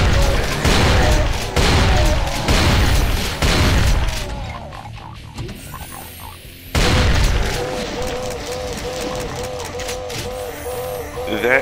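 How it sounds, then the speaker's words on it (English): An imp in the Brutal Doom video game dies slowly, with guttural gurgling groans heard among heavy booming gunfire and explosions, the shooting fading briefly before more blasts and a wavering, drawn-out dying growl. "That is the sound of an imp slowly dying."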